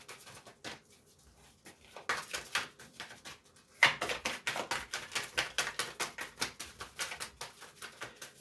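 Rapid papery riffling and tapping of tarot cards being shuffled, soft at first, then louder bursts of quick flicking in rhythmic runs.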